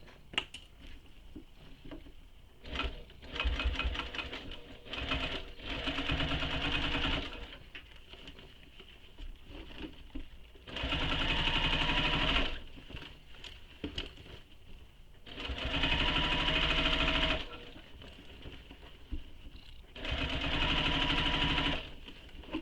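Sewing machine top-stitching the seam allowance of a convertible tote bag, three steady bursts of fast mechanical whirring separated by quieter pauses and handling sounds, running close and fairly loud.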